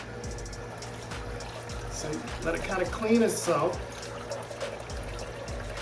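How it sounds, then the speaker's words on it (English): Fresh water is poured into a running juicer after juicing, trickling and splashing over the machine's low motor hum while someone talks. "I like to take a little fresh water while it's still running after doing my juice"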